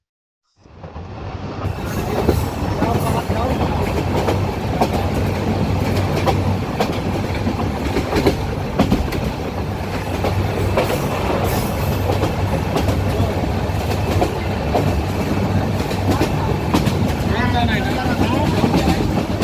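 A train rumbles steadily along the rails with rhythmic clickety-clack from the wheels, a continuous close interior roar with occasional faint squeals.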